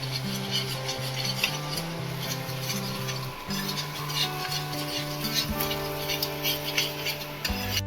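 A spiced mutton mixture is stirred and fried in a pan, with steady scraping and a soft sizzle running under louder background music.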